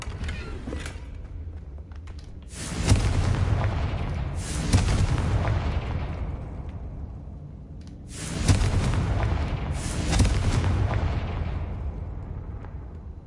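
Two heavy Confringo fire-spell blasts boom out in Hogwarts Legacy, each a deep rumbling explosion around three seconds in and again near eight seconds, with crackling fiery tails decaying between them over a steady low game ambience.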